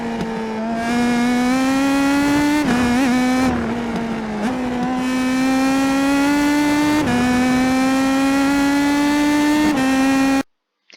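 An Indy Pro 2000 race car in the iRacing sim laps Okayama at full speed, its engine a loud, steady high-pitched whine with sharp gear shifts and brief lifts before cutting off abruptly at the end.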